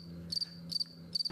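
Played recording of crickets chirping, three short bright chirps at a steady rhythm over a low hum, moderately faint and without voices.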